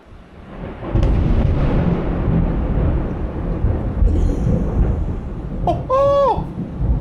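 Heavy rain pours steadily on a mountain cabin while a low thunder rumble rolls through it. A brief high warble cuts in near the end.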